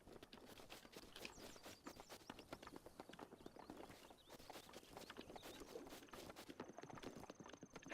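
A horse gallops in the video game Breath of the Wild, with quiet, steady clip-clop hoofbeats running continuously in a rapid rhythm and no talk.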